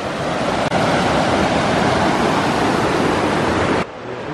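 Toxaway River flowing into Lake Jocassee, a steady loud rush of water filling the scene without a break, then dropping off abruptly near the end.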